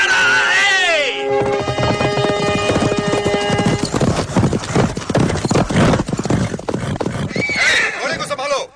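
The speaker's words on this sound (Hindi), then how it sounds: "घोड़े को संभालो।" A horse whinnies loudly at the start, then hooves clip-clop in a fast, close rhythm that fades briefly before another neigh near the end, with voices talking over parts of it.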